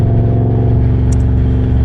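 A Triumph Bobber motorcycle fitted with a Motone X-Pipe exhaust pulls in third gear at low revs, a loud close-up throbbing rumble that holds steady throughout.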